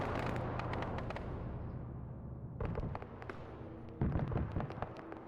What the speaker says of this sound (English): Hear more auto cannon.